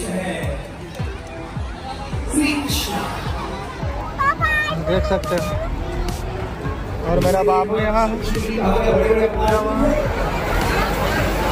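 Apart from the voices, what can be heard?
large crowd gathered at a Shrimad Bhagwat Katha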